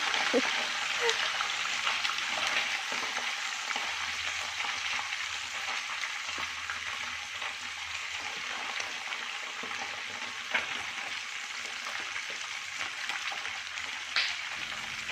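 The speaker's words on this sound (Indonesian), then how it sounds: "Terus ini sesi terakhir penggorengan ikannya." Fish frying in a pan of oil during home cooking, a continuous loud sizzle and crackle with occasional pops and stirring, close by.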